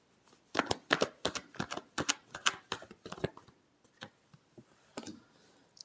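Tarot cards are shuffled by hand in a rapid run of crisp, close riffling snaps and taps that thin out into a few scattered flicks toward the end.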